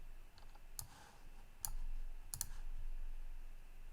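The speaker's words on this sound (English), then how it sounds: "So let me double click." A computer mouse gives a few faint, sharp clicks in a quiet room: single clicks spaced apart, then a quick double-click near the end.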